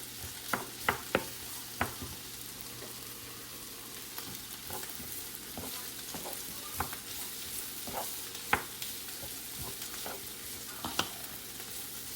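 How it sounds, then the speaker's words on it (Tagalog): Filipino longganisa sausage frying in a frying pan in a home kitchen, with a steady soft sizzle and intermittent scraping and clinking of a utensil stirring in the pan. "ilalaga tapos saka mo siya iluluto sa frying pan"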